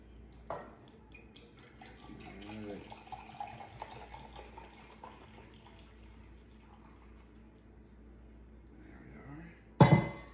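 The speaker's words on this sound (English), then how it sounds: "And we're gonna add 1 1/4 cups of milk just to make it a little bit better, a little richer taste in it." One and a quarter cups of milk are poured into a bowl of boxed Bundt cake batter, a faint, continuous trickle with soft clinks, ending in a sharp clink of the cup against the bowl.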